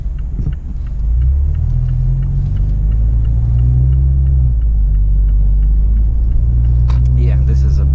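Heavy truck slowing on engine braking in manual mode, a loud, deep droning rumble that settles into a steady low growl, with faint ticking and a brief rustle near the end.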